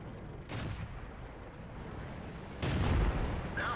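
Cannon blasts from a KV-1S tank in World of Tanks, a couple of muffled booms over a low rumbling battle backdrop, the strongest near the end, fairly faint.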